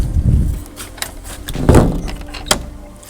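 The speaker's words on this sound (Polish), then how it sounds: "Drzwi się zamykają." A door closes with a few knocks and a firm thud, then a sharper latch click near the end, heard up close.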